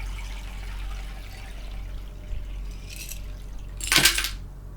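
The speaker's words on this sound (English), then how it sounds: "So I'll pour the rest out here into the strainer." Flat soda pop poured into a strainer, a quiet pouring hiss under a steady background hum, ending in a brief louder splash.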